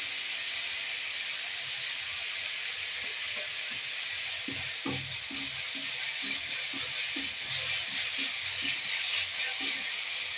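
Spices with turmeric powder and salt fry in a pan for Mumbai-style vada pav filling, giving a steady broad hiss throughout, with faint low clicks and bumps beneath.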